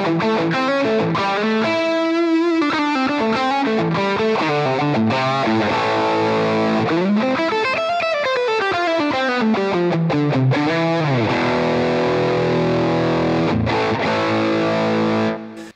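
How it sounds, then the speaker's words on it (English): Electric guitar through a Walrus Audio EONS fuzz pedal at high gain, thick saturated distorted chords and bending, sliding notes played up close and loud, ringing out and cutting off at the end. "As you can hear, we've got tons of gain in this pedal."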